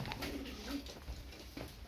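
Tumbler pigeons coo softly nearby, their low murmuring calls repeating over quiet background noise.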